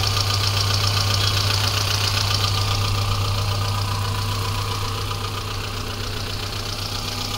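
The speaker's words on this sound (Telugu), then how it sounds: "ఇంజన్ సౌండ్ నీట్గా ఉంది సార్" A 2005-2006 Hyundai Santro Xing XO petrol car idles with a steady, even engine drone and a constant low hum, close and unbroken, with no voices.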